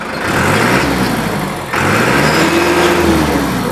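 A used 5630 tractor, kept in original condition, is started and its engine revs: a loud, steady diesel roar that steps up in pitch partway through, with no talking over it.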